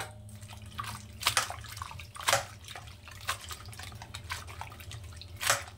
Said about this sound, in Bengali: এবার ধনেপাতাটাকে খুব ভালো করে জল দিয়ে ধুয়ে নেব।